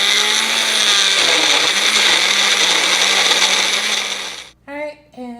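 A Magic Bullet blender whirs loudly and steadily, blending mango, banana, strawberry and orange into a smoothie, then cuts off abruptly near the end, leaving a few brief separate sounds.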